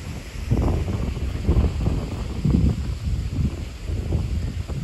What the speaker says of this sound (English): You can tell the wind's getting up.